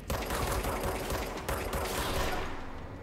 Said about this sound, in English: I love the shooting in this game.